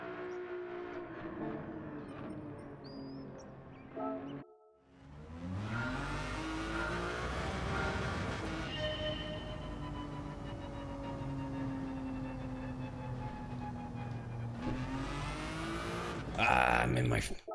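Ferrari race car engine in Gran Turismo 7 at Watkins Glen, a loud, steady engine drone that cuts out briefly and then returns, rising and holding as the car accelerates, with a voice talking over parts of it.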